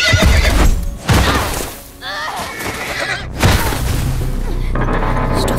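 A horse in The Last of Us is shot down while galloping through enemy lines. It neighs loudly amid pounding hooves and heavy booms, with a shrill whinny rising midway over the chaotic, close-up action.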